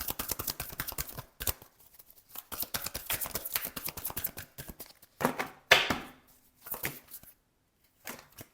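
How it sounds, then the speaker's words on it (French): Tarot cards are shuffled, drawn and laid down by hand, crisp papery riffles and snaps in quick bursts with short pauses between them, close and fairly quiet. "Allez, on prend maintenant 2 cartes ici."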